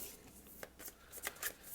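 Oracle of Rama tarot-style cards are shuffled by hand in a quiet room, giving soft, quick riffling bursts at close range.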